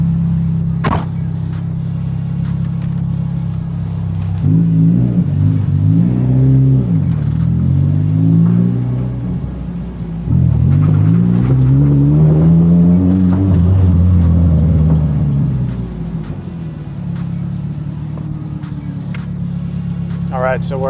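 A Nissan S14 with a Rocket Bunny body kit revs its engine while driving, the low engine note rising and falling in two long pulls under a steady cabin rumble, with someone talking over it.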